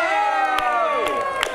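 Audience at an improv comedy show cheering and whooping for the winner, a dense burst of crowd voices with scattered clapping, loud and close.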